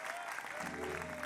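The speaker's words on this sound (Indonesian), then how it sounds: "ini pasti tepuk tangan karena nggak ngerti nih." Studio audience clapping during a live Indonesian talk show, a steady dense patter of applause filling the short moment at moderate level.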